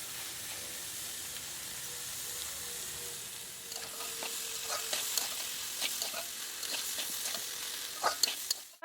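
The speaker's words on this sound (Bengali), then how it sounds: "আলু আর পেঁয়াজ কলি ভাজা করব লাস্ট" Potato and onion stalks frying in a pan, a soft continuous sizzle that grows louder and more crackly toward the end with scattered stirring scrapes; no speech.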